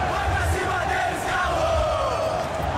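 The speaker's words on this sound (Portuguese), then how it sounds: "Torcida do Galo já tá presente, hein?" In a FIFA 23 match, an Atletico MG stadium crowd chants and roars continuously, a dense massed wall of voices rising and falling in loud waves.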